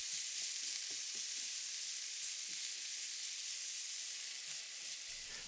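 Onions sizzle steadily in a hot stir-fry pan, a constant crackling hiss with occasional soft stirring scrapes close by.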